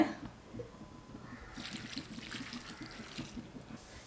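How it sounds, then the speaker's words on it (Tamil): Water runs and splashes steadily into a cooking pot of banana flower, a trickling pour that grows louder partway through, with faint clinks underneath. "தேவையான அளவுக்கு தண்ணி விட்டு வேக வச்சுக்கலாங்க"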